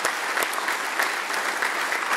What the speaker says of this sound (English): Let us give them a clap to appreciate what they do for us.